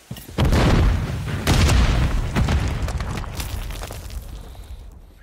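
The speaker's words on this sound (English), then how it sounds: "Grenade out, grenade out." Grenade explosions in Call of Duty Modern Warfare III multiplayer: two loud, close booms, each followed by a long, rumbling decay that fades over several seconds.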